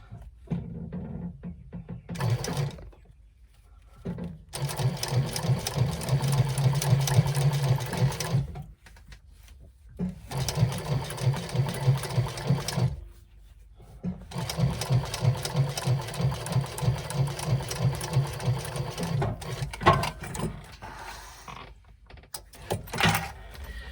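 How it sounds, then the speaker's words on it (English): A sewing machine top stitching the ends of a piece runs in several bursts of steady rapid needle chatter, separated by short quiet pauses while the work is repositioned. "And there we have the ends top stitched in place"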